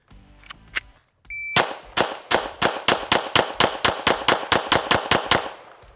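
A string of about fifteen rapid pistol shots rings out at a shooting range, loud and close, fired in an even, fast rhythm after a short electronic timer beep.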